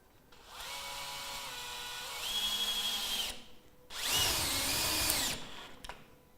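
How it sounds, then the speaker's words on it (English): A power drill drives screws to fasten a roof window frame to battens on a profile tile roof: two steady whirring bursts, the second louder and higher, each winding down, then a brief final tap of the trigger. "Don't quite fasten the screw all the way in"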